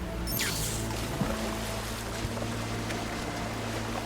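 Steady rushing water from a waterfall in the Horizon Forbidden West game, a continuous broadband wash with a faint splash near the start.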